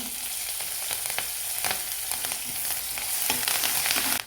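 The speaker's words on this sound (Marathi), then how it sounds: "कांदा थोडासा तेलामध्ये बसवून घ्यायचा त्याच्यानंतर कढीपत्ता" Onion and curry leaves for sambar fry in hot oil, producing a dense, continuous crackling sizzle with light stirring scrapes throughout and no talking.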